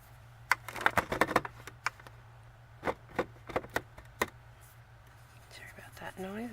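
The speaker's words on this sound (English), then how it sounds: "Sorry about that noise, I was just trying to adjust my light." A desk light being adjusted gives a series of sharp clicks and knocks, a quick cluster at first and then scattered single taps, fairly close over a low steady hum, with soft whispered talk near the end.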